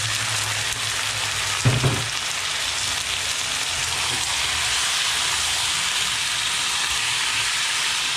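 Duck meat fries loudly in a pan with garlic, onion and ginger, a constant close sizzling roar with a brief clatter near the start.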